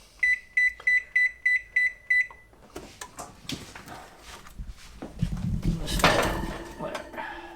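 A kitchen timer gives a run of seven quick, evenly spaced electronic beeps as it is set, followed by clattering kitchen sounds and rustling as someone talks and moves about.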